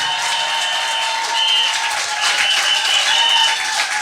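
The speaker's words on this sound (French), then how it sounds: "Est-ce qu'on peut l'honorer par des acclamations?" Loud, sustained applause and cheering from the congregation for the bride at Brother Francis's church wedding celebration, a dense continuous wash of clapping with bright vocal shouts running throughout.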